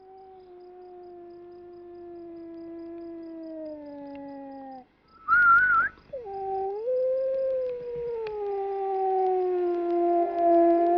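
A dog howls in long, sustained wavering tones, pausing briefly for a sharp yelp-like burst, then resuming a drawn-out howl, fairly close and clear.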